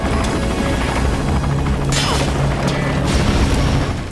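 A hand grenade blast in Metal Gear Solid 5: The Phantom Pain, with sharp crashing bursts over a loud, rumbling wash of noise and a steady droning tone underneath.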